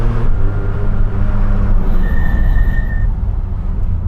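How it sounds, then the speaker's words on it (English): Brakes on a Porsche 911 GT3 squeal with a thin, steady tone for about a second, sitting over the car's continuous low road and engine rumble. "Those brakes squeaking and doing my head in a bit though"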